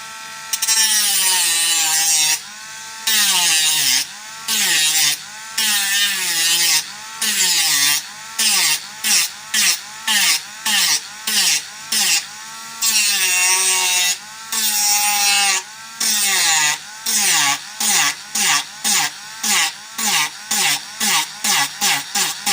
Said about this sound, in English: A rotary tool with a sanding bit is really handy to get those off.